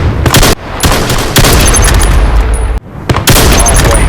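Rapid gunfire from an APC9 Pro in the VR shooter Vail, with loud close bursts separated by brief gaps and a short pause near the middle.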